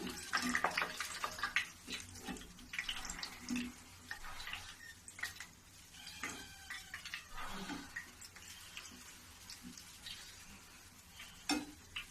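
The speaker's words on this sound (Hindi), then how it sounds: "देखो कैसे इसमें बुलबुला आ रही है चाशनी में।" Hot balushahi, fried flaky sweets, bubbling in sugar syrup: a steady wet fizzing and crackle with scattered sharper pops and a few clinks, close and moderately loud, with no talk.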